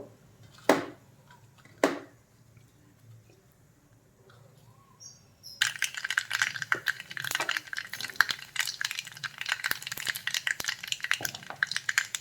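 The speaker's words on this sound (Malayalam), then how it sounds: "എണ്ണ ചൂടാവുമ്പോൾ അതിലേക്ക് കടുകിട്ട് പൊട്ടുമ്പോൾ" Mustard seeds crackling and popping in hot oil, a dense burst of sharp pops starting partway through after a quiet stretch with a couple of isolated clicks, close and fairly loud.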